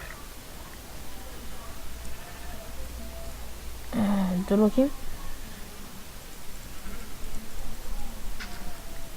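A Minecraft sheep bleats once, a short wavering baa near the middle, with a player talking over game sounds before and after.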